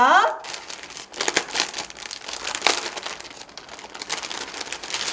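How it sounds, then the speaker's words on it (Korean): Small plastic bag from a model cake kit torn open by hand, a close crinkling and rustling that runs steadily for about five seconds after a brief opening squeak. "그다음에 어, 작은 비닐을 한번 소개해 볼게요. 뜯어 볼게요."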